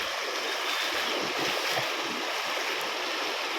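Floodwater of the swollen Bharja river pours over a bridge in a steady, loud broadband rush with no pauses, a continuous roaring wash of water.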